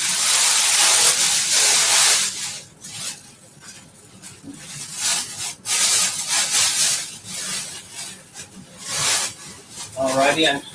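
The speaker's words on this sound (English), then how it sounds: "Take the big plastic baggie off." A big plastic bag is pulled off a replacement Legacy box set, with loud crinkling and rustling in bursts close to the mic.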